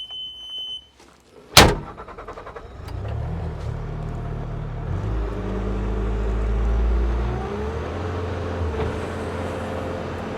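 A 2017 Bobcat T595 M Series rubber-track skid steer loader starts with a sharp crank and catch, then settles into a loud, steady diesel idle that swells slightly as it keeps running.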